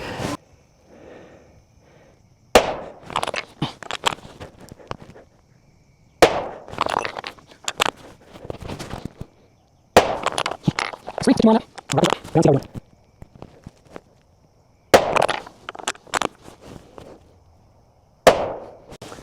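A Bergara B14 Ridge bolt-action rifle in 6.5 Creedmoor firing 143 grain ELDX rounds, five sharp loud cracks spaced several seconds apart, each followed by a brief ringing tail and bolt handling, with talking between shots.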